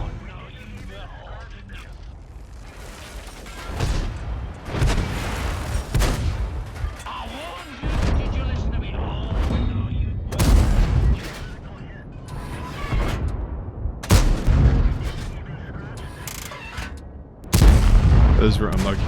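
Tank cannon shots in the Bisonte C45 tank video game, several heavy booms spaced a few seconds apart over rumbling engine and track noise, with someone talking throughout.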